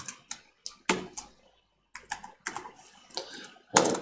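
Someone types code on a computer keyboard in short bursts of quick, close key clicks, with a brief pause in the middle.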